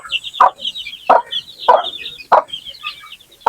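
Healthy chicks cheep in a dense, high, continuous chorus of short peeps, close by, punctuated by loud sharp knocks repeating about every half second.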